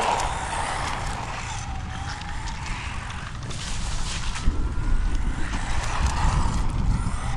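Arrma Mojave Grom RC car driving over rough weeds, a continuous whining, ratcheting drivetrain buzz with rustling brush, close and steady, growing slightly louder toward the end.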